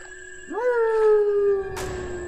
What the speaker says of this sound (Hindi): दूर कछुबन के बीच से लोमड़ी की आवाज कानों में पड़ी।